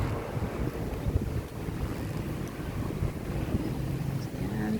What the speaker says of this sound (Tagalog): Ayan, tahimik at mahangin.